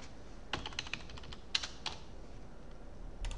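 Keyboard keys tapped to type a folder name in an email program, a short burst of soft clicks at a quiet level with a louder key press near the middle and another flurry at the end.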